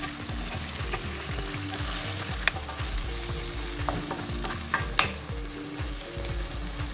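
Tomatoes and spices for chole sizzle in a pan, with a steady frying crackle and regular scraping stirs and a few sharp clicks of the spoon against the pan.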